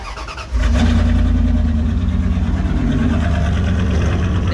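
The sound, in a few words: engine of lifted 2nd gen Ram truck starting and idling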